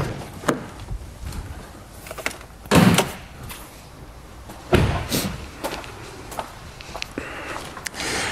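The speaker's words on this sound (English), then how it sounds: "Pop the hood." The hood of a BMW E92 M3 is opened, with a few sharp clunks and thumps of the latch and panel amid quieter handling noises, close by.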